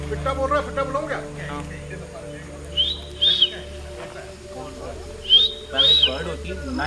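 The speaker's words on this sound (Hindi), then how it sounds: "अरे एक मिनट सुनो, पिट्टा बोल रहा है," A pitta bird calls in a forest setting near Udaipur, two pairs of short whistled notes rising and falling, moderately loud, over a low steady background hum.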